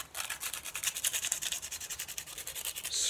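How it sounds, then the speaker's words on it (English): Sandpaper scuffing brass pen tubes for a walnut slimline pen: quick, rhythmic back-and-forth rasping strokes, close and fairly bright, about a dozen in three seconds, with no talking. "Now the way we get around that is by using sandpaper"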